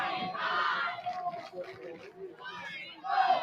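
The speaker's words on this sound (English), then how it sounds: "Here are the Torrey Pines fans. Oh, we're about to get a cheer off, folks." Torrey Pines supporters cheer and shout together in the stands at a girls' high school soccer match against La Costa Canyon, a loud, sustained crowd roar rising and falling with a swell near the end.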